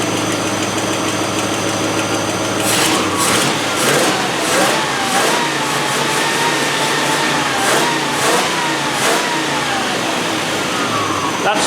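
A carburetted NATO V8 engine runs loudly nearby, a rough, steady idle rising and falling through a series of rhythmic blips and revs, with a knocking, uneven character and no talking.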